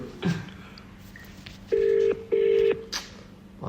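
Two long, steady electronic phone ring tones sound close by, one right after the other, with a few faint clicks and bumps before them.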